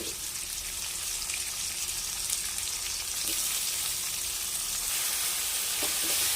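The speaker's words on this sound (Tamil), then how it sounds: "தக்காளி வெங்காயம் நல்லா வதங்கட்டும்" Tomato and onion sautéing in a pan: continuous sizzling and frying, a steady crackle with occasional light scraping, no voices.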